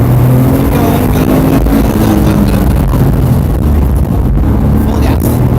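A race car on a practice session engine screams at full throttle, loud and close, a sustained high roar with steady revving as it accelerates hard; a voice can be heard faintly alongside.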